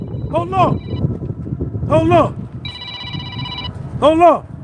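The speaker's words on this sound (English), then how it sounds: "Phone call." A telephone rings with an incoming call, three warbling ring bursts at regular intervals and a steady electronic tone between them, heard close and fairly loud over low background noise.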